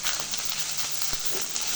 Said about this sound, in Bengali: এখন দিব কাঁচামরিচ কয়েকটা খালি করে দিয়েছি।